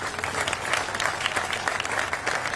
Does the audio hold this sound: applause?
yes